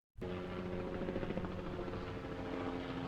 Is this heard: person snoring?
no